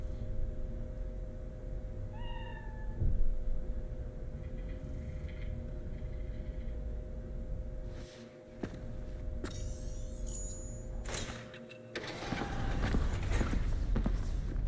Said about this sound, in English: Stop meowing, cat.